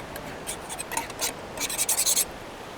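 A few short scratchy scrapes rasp across a painting canvas outdoors, quick strokes in a brief rhythmic burst, close and fairly quiet.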